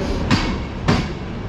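A passenger train departs a station, its wheels giving two loud, evenly spaced clacks over the rail joints against a constant rumbling roll, with no talk.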